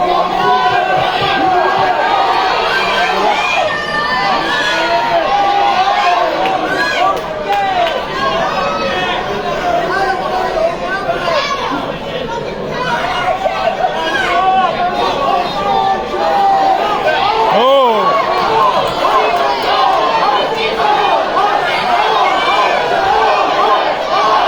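Crowd at a live Muay Thai fight, loud dense chatter and shouting swelling into cheers and yells throughout, close and continuous.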